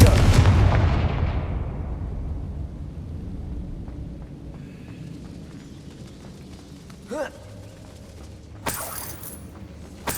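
An explosive Confringo fire spell in the video game Hogwarts Legacy, a loud booming blast at the start that rumbles and fades away over several seconds, followed by quieter scattered crackles and a couple of sharp bursts.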